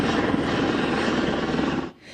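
A rescue helicopter hovers near a village in the Swiss Alps in Valais while lifting injured cows in a sling, producing a loud, steady rotor roar that drops away sharply at the end.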